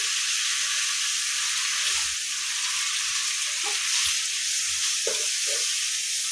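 Onions and tomatoes frying for drumstick sambar, a steady loud hiss of sizzling oil filling the whole stretch, with occasional soft knocks and scrapes of stirring and no voices.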